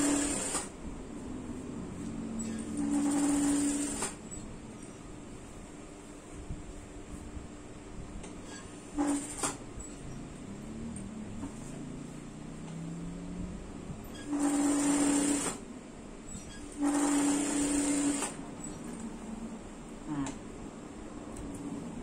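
A sewing machine stitches fabric while a garment seam is joined toward the neckline, running in several loud, steady bursts of a few seconds each, with quieter stretches and some voice in between.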